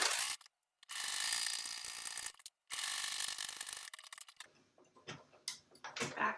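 A sewing machine runs fast, stitching a denim shoulder bag, with steady mechanical whirring in long stretches broken by short pauses, then slower ticking and clicking as the stitching stops and starts.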